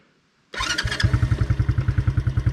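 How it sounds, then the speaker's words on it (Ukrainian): A Forte Orix Hunter Scrambler children's quad bike engine catches after a short silence and settles into a loud, close, steady rhythmic idle with regular pulsing putters. "Заводиться з полтичка, як часики"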